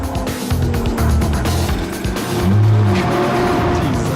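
Pagani Zonda supercar being driven, its engine a loud steady roar with rising and falling tone throughout, close and continuous, with possible tyre noise.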